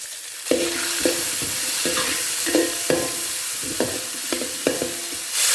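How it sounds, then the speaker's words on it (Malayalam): Cashews and onion fry in ghee in a pan, a loud close sizzle running throughout, broken by regular scraping stirs roughly every half second to second. "അപ്പോൾ ഇതെല്ലാം കൂടെ നെയ്യിലൊന്ന് ചെറുതായിട്ട് മൂത്ത് വരട്ടെ."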